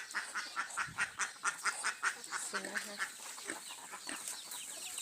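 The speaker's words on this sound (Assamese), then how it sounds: "এইটো হাঁহটো চাইছে ইমান ডাঙৰ" Repeated quacking calls from a large duck, fairly close, in a steady string of short bursts against open outdoor background near rice fields being harvested.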